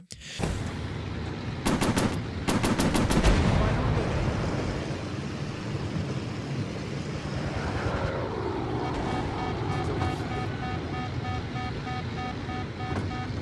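Warplane machine guns firing in the Pacific air-combat VR game Warplanes: Battles over Pacific, loud rapid bursts in the opening seconds over a steady droning engine, then the engine hum carries on alone.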